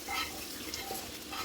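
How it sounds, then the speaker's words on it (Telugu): Hot tempering meets ground coriander pickle in a steady, faint, continuous sizzle, with no voices. "ఈ పోపును ఈ పచ్చళ్ళలో వేసుకుందామండి"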